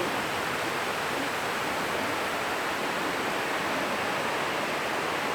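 Heavy rain pours down steadily as a dense, even hiss, loud and unbroken from start to finish, with no voices or other distinct sounds above the wash.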